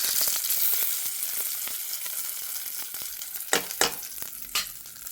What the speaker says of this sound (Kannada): ಒಗ್ಗರಣೆ ಮಾತ್ರ ಬೇರೆ ಹಾಕ್ಕೊಂಡಿದ್ದೀನಿ.